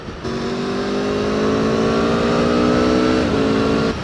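An Aprilia Tuono V4 1100 Factory motorcycle, a 2019 model, runs its V4 engine in race mode, giving a loud, steady high-revving drone with strong harmonics that climbs, briefly shifts near the end, and then cuts off.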